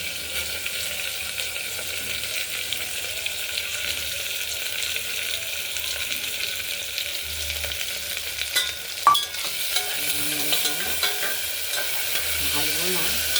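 Mung dal is stirred in a pressure cooker after tempering. A spoon scrapes and churns steadily over a soft, continuous sizzle, with a few sharper knocks near the end.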